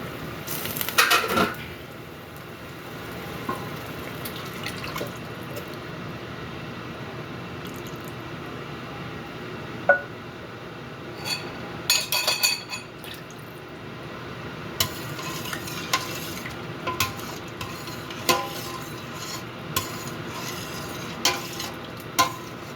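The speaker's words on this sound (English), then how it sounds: "so I have my coconut milk. I'm gonna add to the shrimp" Coconut milk goes into shrimp cooking in a pan for Jamaican food, with a steady low sizzle under repeated stirring, scraping and soft clinks of a utensil against the pan, close and moderately loud.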